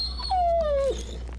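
A wounded dog in the Blair Witch video game lets out a single drawn-out whimper that slides downward in pitch, fairly close over a low steady background hum.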